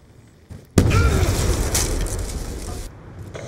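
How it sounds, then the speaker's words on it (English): Grenade explosion in Call of Duty Black Ops 2 multiplayer: one loud, close boom that bursts suddenly and then rolls off into a rumbling, debris-filled tail lasting a few seconds. "Grenade! Get out of there!"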